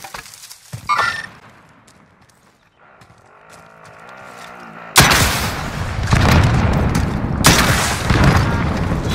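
Enemy vehicle blown up in Call of Duty: Warzone, a sudden loud boom followed by sustained roaring blast noise and a second burst, after a quieter stretch of faint mechanical hum.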